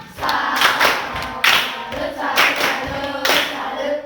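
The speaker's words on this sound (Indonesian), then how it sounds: "Oke, beri tepuk salut untuk Fiona." A classroom of students gives a patterned salute clap, tepuk salut, in several loud rhythmic bursts of group clapping, close and energetic, separated by brief lulls.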